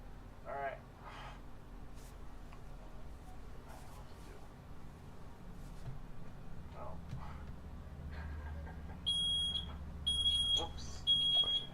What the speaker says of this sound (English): and then the smoke detectors went on